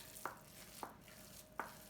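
Rice being mixed by hand makes three soft, wet slaps and stirs spaced irregularly over a quiet background, close and faint.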